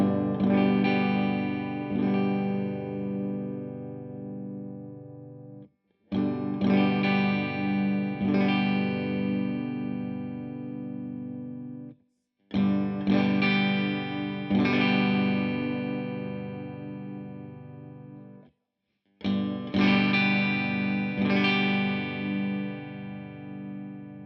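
Electric guitar chords ringing through a Laney Lionheart L20H 20-watt all-tube amp with mids and treble turned fully down, four loud sustained phrases with brief gaps between them.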